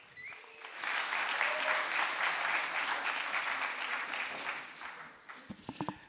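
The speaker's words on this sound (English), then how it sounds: "Please give them a big round of applause." Audience applause at a hackathon closing ceremony, a steady crowd clapping that swells quickly and holds for several seconds, then thins out into a few scattered claps at the end.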